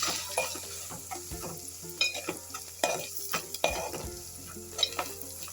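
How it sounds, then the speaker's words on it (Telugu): A spoon stirs cauliflower kurma with salt and turmeric in a hot pan, giving repeated scraping strokes and clinks over a steady sizzle, close and clear with no talk. "మిగిలిన సాల్ట్ పసుపు ఇవన్నీ వేసేద్దాం ఓకే కలిపేసుకుంటాం"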